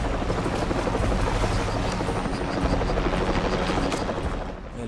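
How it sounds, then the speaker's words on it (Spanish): A helicopter in the video game Shadow of the Tomb Raider, a steady loud rotor thrum with dense low chopping that holds for several seconds before easing off at the end. "Helicóptero."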